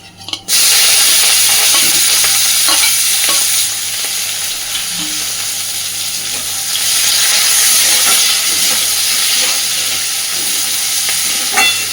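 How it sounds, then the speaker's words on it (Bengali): Chopped onion, slit green chilli and nigella seeds hit hot oil with a loud, steady sizzle that holds for the whole stretch, with occasional scraping stirs and no talk. "আমি প্রথমেই ফোড়নে দিয়ে দিচ্ছি অল্প একটু কালো জিরে দিচ্ছি পেঁয়াজ কুচি আর চেরা কাঁচা লঙ্কা"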